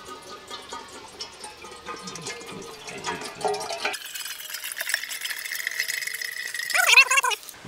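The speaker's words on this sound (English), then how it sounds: "And Noah's going to help me pour in some water." Water poured into a tea kettle pot while coffee is made, garage camping in a Honda Element: a trickling, splashing stream that rises into a fuller, higher-pitched fill in the second half, fairly close, with faint background rattles.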